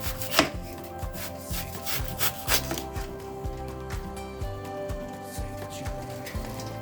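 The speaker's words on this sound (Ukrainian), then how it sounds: "для бургера ще наріжу цибульку, дуже-дуже тонесенько" A knife slices an onion into very thin rings for a burger, giving a run of crisp, fairly close chops against a board that come in an uneven rhythm with no talking.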